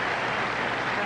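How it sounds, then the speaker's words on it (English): A tennis crowd applauds Stefan Edberg holding serve in the first set, a dense, steady wash of clapping throughout the short stretch. "the crowd appreciate the fact that Edberg held on"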